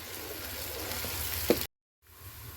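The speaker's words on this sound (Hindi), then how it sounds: "अब इसमें प्याज डालेंगे। और प्याज को सुनहरे होने तक भून लेंगे।" Onions sizzle and fry in hot ghee with a steady crackling hiss, marked by a brief sharp flare before the sound cuts out and then returns more faintly.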